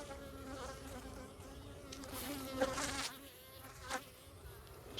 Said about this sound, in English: I got one bee really mad at me.